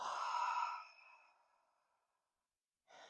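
A strong breath pushed out through the mouth during a postpartum core exercise, one long audible exhale that fades over about two seconds, then a short new breath sound starts at the end.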